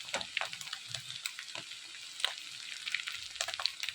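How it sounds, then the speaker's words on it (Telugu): Mutton masala and ground spices such as cumin and coriander powder frying in a pan for egg fried rice, a soft steady sizzle broken by light scraping and stirring clicks, close and fairly quiet, with no talking. "1 టేబుల్ స్పూన్ మటన్ మసాలా వేసుకుని ఇదంతా బాగా వేయించుకోవాలి."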